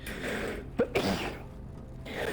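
A single sharp sneeze from a person, close and fairly loud, with a quick intake and burst, set against a low steady background hum during a Murky Divers co-op game session.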